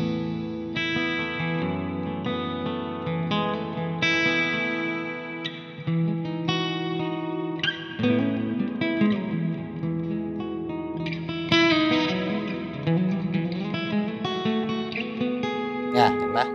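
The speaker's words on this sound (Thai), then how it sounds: "อันนี้มันเป็นเสียงรีเวิร์บไงก็มันเป็นเสียงธรรมชาติหลักๆที่แบบกีตาร์โป่งเขาใช้กันอยู่แล้ว" Acoustic-electric guitar strummed and picked through a reverb effect, sustained chords ringing out with a spacious, lingering wash that fills the whole stretch at steady moderate loudness.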